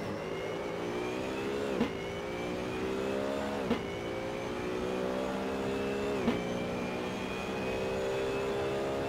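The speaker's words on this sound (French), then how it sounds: "La voiture qui commence à glisser un tout petit peu dans le raidillon, mais rien de grave." Race car engine in the Assetto Corsa racing game, a steady high-pitched whine that climbs through gears with three sharp shift drops, fairly quiet and alone without talk.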